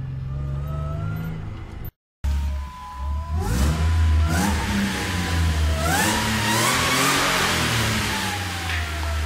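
A Jeep JK with a 3.8L engine and a Sprintex supercharger idles with a low rumble, cuts out briefly, then revs hard several times, the engine pitch climbing and falling with a rising supercharger whine, loud and close.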